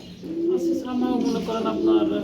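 Pigeons coo in low, repeated throaty notes close by, with a voice speaking over them.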